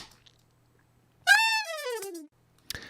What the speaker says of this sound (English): display our saxophone riff, which sounds like this.